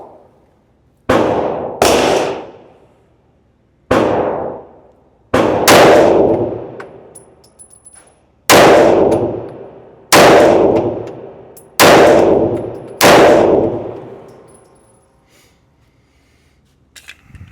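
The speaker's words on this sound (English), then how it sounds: "Not shooting super fast, not shooting super slow either." A Shadow Systems CR920XP pistol fired at a steady, moderate pace, eight sharp, loud close-range shots with ringing decay between them.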